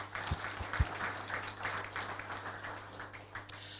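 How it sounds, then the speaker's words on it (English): Quick round of audience applause at a live-streamed event, moderate and steady with soft scattered clapping and a couple of louder low thumps near the start. "So can I just get everyone to have a quick round of applause for them as well"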